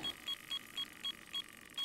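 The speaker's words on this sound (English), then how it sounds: "Can the alarms be turned off?" A carp fishing bite alarm in Fishing Sim World sounds a run of short, evenly spaced high beeps, about seven quick pips, faint and alone.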